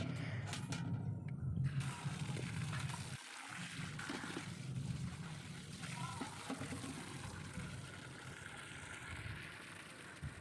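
Water runs from a tap into containers outdoors, a steady broadband rush with a short sharper splash at the start and a brief break near three seconds, then continuing flow with faint background sounds.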